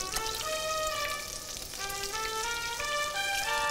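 Cheese pancakes with parsley fry in a pan with a steady, close, even sizzle that holds throughout, with no voices.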